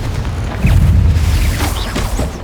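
A Confringo explosive spell cast in Hogwarts Legacy bursts with a loud, deep boom that swells and rumbles on for a couple of seconds over busy game sound.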